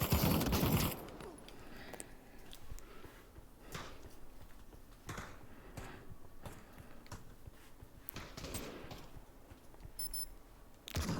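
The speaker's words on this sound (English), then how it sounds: "Another beep." Short electronic beeps from the Pavlov VR shooter, played in a Valve Index stream, recur at a steady rhythm of roughly one per second amid gunfire, clatter and background game noise.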